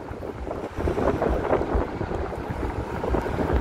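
Strong wind buffets the microphone on a downtown Chicago street, a loud, steady, rumbling roar that fills the whole stretch with no voice over it.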